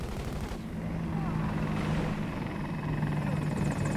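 A helicopter in the video game Battlefield 2042 roars steadily and close, its rotor thrumming continuously under game noise with a faint crackle of gunfire.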